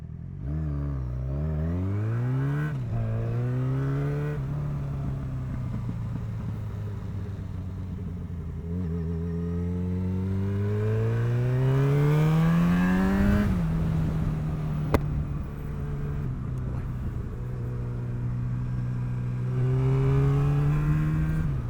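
Motorcycle ridden with a full fuel tank, engine revving up and down through repeated gear changes, steady rising and falling pitch sweeps over continuous road rumble.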